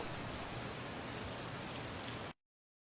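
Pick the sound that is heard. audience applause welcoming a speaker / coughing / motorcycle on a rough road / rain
rain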